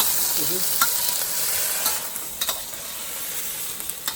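Green beans and baby bok choy stir-fry in a hot pan, making a steady bright hissing sizzle with occasional sharp pops and tool scrapes, heard close and without talk.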